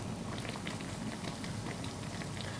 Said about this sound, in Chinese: 全程中火慢炸，不停地翻面。